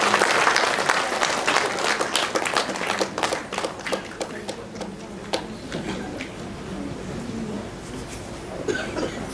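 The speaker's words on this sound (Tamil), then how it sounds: "அனைவருக்கும் பலத்த கைத்தட்டல் வழங்குமாறு அன்போடு கேட்டுக்கொள்கிறேன்." An audience at a CD launch event in Singapore breaks into sustained applause: loud, dense clapping that gradually thins and softens, with a few voices faintly underneath.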